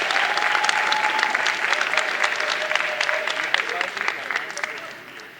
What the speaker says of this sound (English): Now give them a round of applause that shows that you appreciate them.